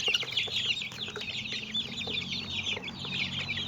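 Chickens clucking and chattering together nearby, a steady busy flock murmur with no one speaking.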